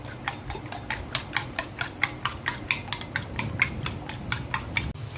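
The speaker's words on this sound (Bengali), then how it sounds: "ম্যাগি নুডলস রান্না করার জন্য আমি 2টো ডিম নিয়ে নিয়েছি, এখন ফেটে নিচ্ছি" A fork or whisk beats two eggs in a bowl with quick, evenly spaced clicks against the side, about three taps per second, close and clear over a faint background hum.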